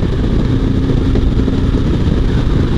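A motorcycle fitted with a car tyre rides fast on a highway at about 80 mph, giving a loud, constant engine drone blended with heavy wind and road rumble.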